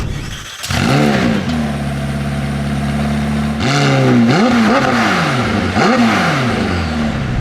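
A McLaren 765 LT supercar engine starts with a sharp bark, then holds a steady idle before a series of loud, close rising and falling revs, with no talking.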